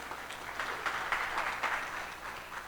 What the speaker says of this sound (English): Can we give them a very big round of applause?